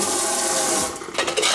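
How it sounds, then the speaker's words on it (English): Canned black beans are rinsed under running tap water, a steady close splashing rush that briefly breaks into uneven spattering near the end. "just give it a little rinse. Rinse your black beans."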